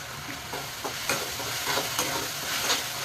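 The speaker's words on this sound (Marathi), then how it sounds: "कांदा बदामी कलरचा घालायचा" Onions frying in oil in a pan for a paneer curry, a continuous close sizzle punctuated by several sharp scraping strokes of a stirring spoon.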